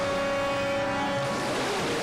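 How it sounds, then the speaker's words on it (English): Big ocean waves roll and crash in a scene from the TV show LOST, a steady wash of surf noise with a low sustained tone fading partway through, no voices heard. "Waves are too big, man"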